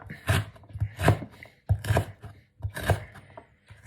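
A knife chopping on a board in four quick pairs of thuds, close and crisp, with short pauses between each pair.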